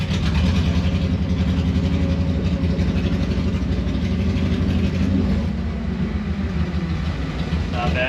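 A 1974 VW bus fitted with a Subaru engine drives along, its engine droning steadily and loudly at mid pitch with a continuous rumble that eases slightly near the end.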